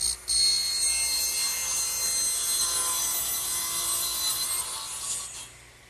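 Wooden shelf boards being cut to length with a saw in a workshop, a continuous close, bright rasping cut that holds steady for several seconds before tapering off.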